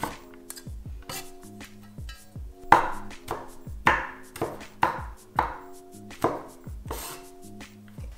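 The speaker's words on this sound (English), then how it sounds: "Cut the garlic into small pieces." A knife chops peeled garlic cloves into small pieces on a board, a series of sharp, close knocks in an uneven rhythm with quiet gaps between, no talking.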